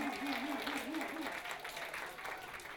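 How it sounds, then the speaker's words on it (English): Applause from a crowd at a San Francisco Public Library event, a steady patter of clapping throughout, with a voice audible briefly at the start. "Give a big round of applause for Wild Thing."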